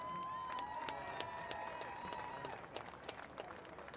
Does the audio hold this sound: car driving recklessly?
no